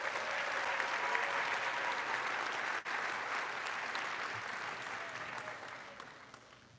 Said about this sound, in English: One more round of applause for 5B